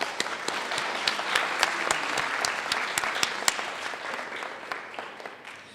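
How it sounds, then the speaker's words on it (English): Steady applause from an audience at an English major award ceremony and first-year writing awards evening, a dense wash of many hands clapping that holds for several seconds before easing slightly at the end. "So if you could please help me out by giving them a round of applause."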